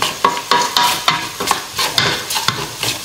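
Eggplant frying in hot oil in a pan, stirred with a utensil in steady rhythmic scraping strokes over a continuous close sizzle, with no voices.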